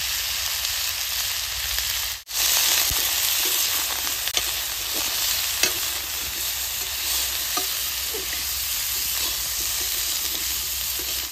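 Vegetables and spices sizzle loudly in a hot pan with a dense, continuous frying hiss, marked by a few faint stirring clicks and a brief dip near the start, and no talk.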